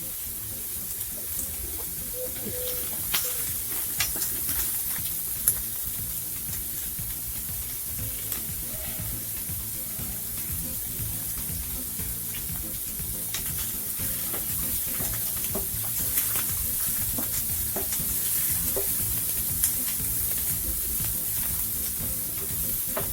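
Steady sizzling of chicken and prawns frying in a hot pan, with occasional stirring clicks and scrapes, continuous and fairly loud.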